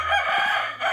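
A chicken gives a short, harsh cackling call, loud and close, lasting about a second.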